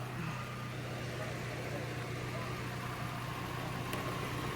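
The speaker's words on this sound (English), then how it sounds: "nice, clean, quiet engine" A car engine with a brand new DieHard battery and new belt idles quietly and steadily, a low constant hum with faint mechanical hiss and no voices.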